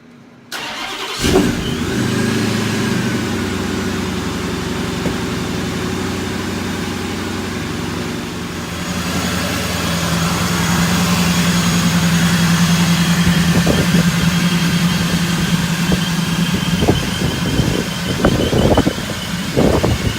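A ProCharger-supercharged car engine cranks and fires, then settles into a loud, steady idle close by, with the rumble swelling slightly later and a few clicks and knocks over it.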